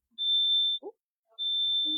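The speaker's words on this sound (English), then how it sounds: "That's not the fire alarm. It's the oven." A new kitchen oven beeps with two long, steady electronic tones separated by a short gap, clear and fairly loud, while a brief voice murmurs in between.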